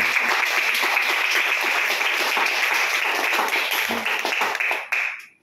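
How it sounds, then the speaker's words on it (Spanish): A church congregation claps together in dense, sustained applause that stays loud and steady before tapering off and stopping abruptly near the end. "Dele palmas al Señor Jesús."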